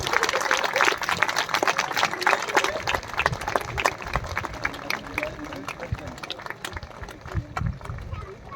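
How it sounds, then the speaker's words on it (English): An outdoor crowd at the Ambala air show breaks into a long stretch of scattered clapping and cheering, with an announcer's voice carrying over the applause as it slowly thins out. "Please give a huge round of applause for the Akash Ganga team."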